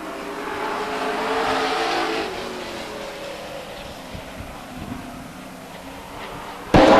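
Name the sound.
race cars racing at Stockton 99 Speedway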